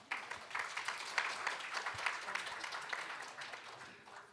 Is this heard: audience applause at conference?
yes